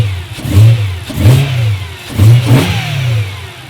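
A BMW M3 with an AFE intake revs in a few short bursts, the engine rising and falling roughly every second at moderate distance, with no talk over it.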